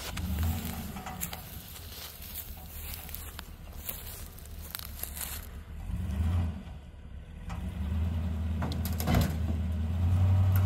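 A Ford F250 truck engine idles and runs with a steady low rumble, swelling louder near the end, mixed with scattered clanks and shuffling nearby.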